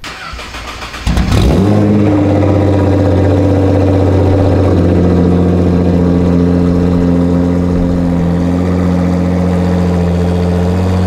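A widebody Nissan GT-R R35 engine cranks briefly, then catches with a loud rise in revs and settles into a steady, deep, close idle that runs on alone.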